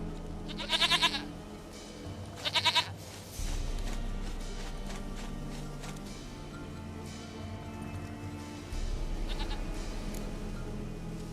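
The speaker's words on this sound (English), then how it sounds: "Goat of mine, dearest, sweetest goat." A goat in a video game gives two loud, quivering bleats close together, then a fainter third one later, set against steady background music.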